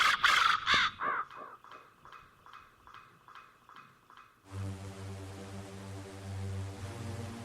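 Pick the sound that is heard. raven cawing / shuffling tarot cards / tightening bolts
raven cawing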